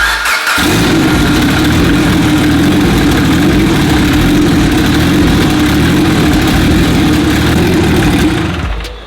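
A car engine runs with its downpipe removed, catching after a brief pause and then idling loud and raw with a steady rumble for several seconds before cutting off at the end.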